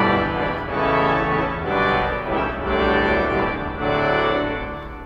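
Double trumpet 16, trumpet 8 and clarion 4 stops of a large Austin pipe organ combine into a full, brassy, sustained chordal passage that swells and shifts, loud and resonant, with no voices.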